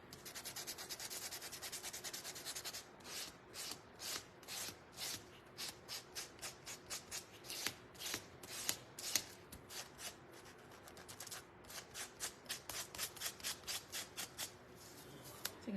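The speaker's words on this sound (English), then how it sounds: "I'm gonna sand it. Let me give it a little weathering." A wooden stand for a patriotic firecracker craft is hand-sanded to give it a weathered look. The strokes are quick and rhythmic, rasping back and forth and coming closer together in bursts, with no talking.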